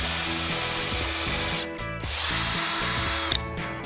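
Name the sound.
drilling countersink hole with number 8 countersink bit in wood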